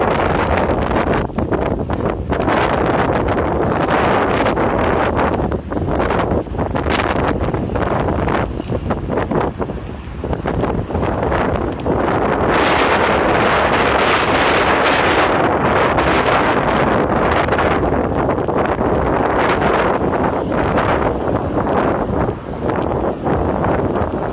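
Heavy wind buffeting a microphone, loud and continuous roaring gusts with rumbling dips and surges throughout, no talking.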